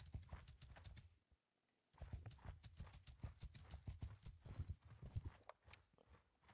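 Horse hooves clip-clop at a steady walking rhythm in the medieval game Bannerlord, moderately close, with one brief pause before the trotting beat resumes.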